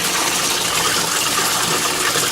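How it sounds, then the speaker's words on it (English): Water rushes and gushes steadily through an automatic siphon in a pump-free aquaponics fish system, a loud, continuous splashing flow with no voices. "And then watch how it takes and oxygenates that water"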